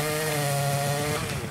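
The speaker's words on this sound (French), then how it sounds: "c'est pas de la camelote cette tronçonneuse" A chainsaw from the anime Kaiju No. 8 runs at a high, steady buzzing whine, loud and close, held constant for a short burst with no voices over it.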